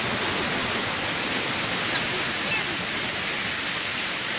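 Salvosa Falls in Pantukan, Davao de Oro, roars as a constant, loud, broadband rush of falling water, steady throughout with no breaks.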